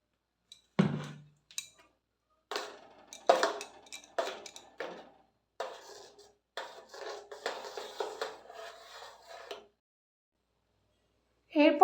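Mustard paste being stirred with salt and mustard oil in a bowl, with faint scraping and clinking of a utensil against the container, coming in short irregular strokes with brief gaps.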